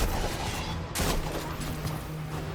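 Gunfire in Destiny 2's Duality dungeon, with dense rapid shooting throughout and one louder sharp burst near the middle, close and continuous with no talk.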